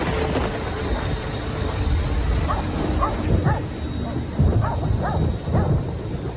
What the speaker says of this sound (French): son chien s'est mis à aboyer, ce qui l'a réveillé